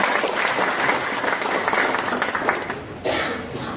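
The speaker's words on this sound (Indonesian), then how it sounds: "Aplaus dulu dong buat Pak Nur Khalid" An audience at an Indonesian Eco Racing presentation claps for Pak Nur Khalid in sustained, dense applause that swells again briefly near the end.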